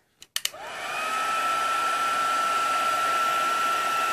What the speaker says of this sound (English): And then you come in with your heat tool, and there'll be a bit of noise.